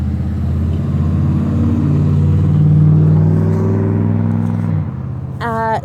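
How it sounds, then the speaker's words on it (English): Road traffic passes a home garden in Sherman as a steady, loud engine rumble that swells and then fades, with a voice speaking briefly at the end. "So, of course, here comes more traffic."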